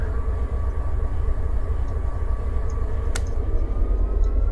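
Steady low rumble of an idling diesel locomotive in Train Simulator 2022, hauling empty coal cars on the Butte Sub, with a constant drone and a brief sharp click partway through.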